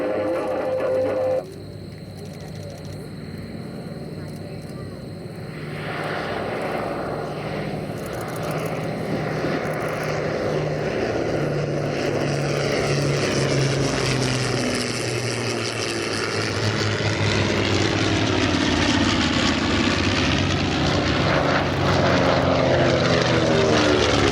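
Propeller-driven WWII bombers, among them a B-29, Mosquito, Lancaster, B-17 and B-25, make a flyby at an airshow gathering. A droning multi-engine roar swells steadily from distant to loud and close, with no talk over it.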